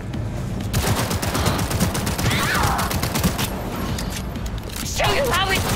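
Gunfire in the video game Cyberpunk 2077: dense rapid bursts of shots crackling in a loud, continuous fusillade, with brief whooshing effects in between and near the end.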